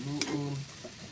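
Squid adobo is stirred in a frying pan, a short scrape of the utensil over a steady sizzle, brief and close.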